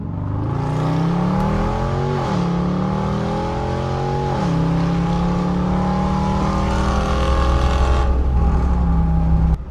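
Straight-piped Dodge Durango R/T growling loudly up close, with the engine note dropping and blipping back up twice as it downshifts, then holding a steady drone.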